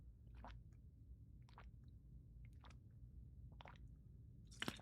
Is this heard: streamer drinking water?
yes